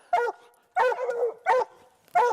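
A hunting dog barks four times at even intervals after a bobcat is shot in Montana, each bark sharp and near with short quiet gaps between.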